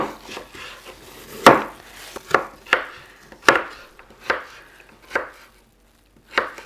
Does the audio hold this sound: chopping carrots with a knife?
yes